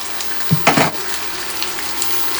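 Vegetables stir-frying in a pan, a steady low sizzle with a few brief louder clatters early on as more pieces go in.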